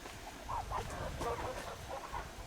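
Farm chickens in a barn enclosure cluck in agitated bursts, moderately near, over a low steady background rumble with no talking.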